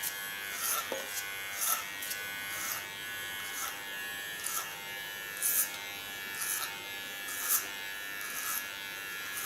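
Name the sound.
electric hair clipper cutting short hair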